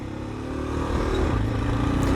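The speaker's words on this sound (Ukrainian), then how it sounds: "Зараз вийдемо на рівне і спробуємо динаміку цього мотоцикла" A cheap Japanese motorcycle engine builds from a low rumble to a louder, rising drone as it accelerates in second gear, heard up close with no talking.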